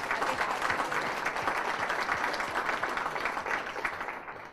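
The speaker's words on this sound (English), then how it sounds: "So let's give our staff a warm round of applause." An audience at a morning forum gives the staff a warm, sustained round of applause, a dense wash of clapping at moderate volume that begins to taper off at the end.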